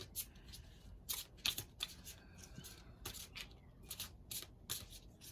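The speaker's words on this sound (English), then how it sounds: "let's see what happens as we pull a few more cards for you" Fairy Tarot cards are shuffled by hand at close range, producing bursts of soft papery riffles and slides in irregular clusters over a quiet background, with no voice.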